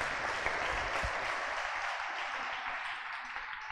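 A church congregation claps steadily throughout, a dense, even wash of hands sounding somewhat distant and soft with no break.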